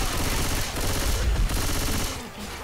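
Rapid automatic gunfire from Left 4 Dead 2 rattles loud and continuous throughout, a dense stream of shots without pause.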